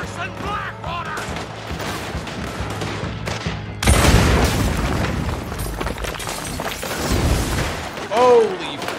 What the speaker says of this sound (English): Place dynamite.